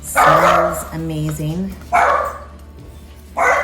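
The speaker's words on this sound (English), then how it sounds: "sorry about my dog in the background, but we have 3 Frenchies" Several French Bulldogs bark in short repeated bursts and a drawn-out whining yip, mixed in with a person speaking briefly in a kitchen during meal prep with duck.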